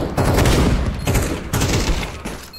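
Shotgun blasts in a video game, several loud close bursts with a heavy low-end punch, firing in quick clusters about half a second to a second apart with a brief lull between groups.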